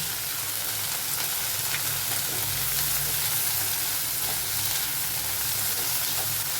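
Soaked peanuts and cashews frying in a pan with oil, a steady close sizzle and crackle running continuously, no voices.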